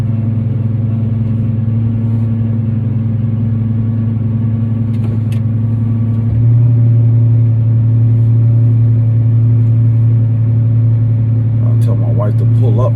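A Lamborghini Gallardo with its front lift raised, pulling out of a driveway: a steady, close, deep engine drone with strong low harmonics that swells a little louder partway through and then holds a heavier rumble to the end.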